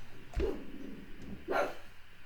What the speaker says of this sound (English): Oh my god, stop barking.